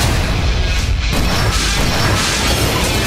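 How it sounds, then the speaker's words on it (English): Mercedes-Benz Unimog truck smashed during a film chase stunt, a loud sustained crash and crunching impact filling the whole stretch with dense, noisy debris and no voices. "after he smashes the Unimog, he jumps into a G-Wagon"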